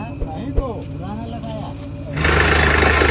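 A borewell drilling vehicle's engine starts: a voice speaks over a low idle at first, then the engine abruptly roars up into a loud, steady drone for the last second.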